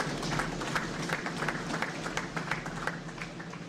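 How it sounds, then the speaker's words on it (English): A seated audience at a Nigerian peace advocacy event gives a welcoming round of applause for Professor Felix Kobeni, a steady, moderately distant patter of many hands clapping throughout. "Please, a round of applause for him."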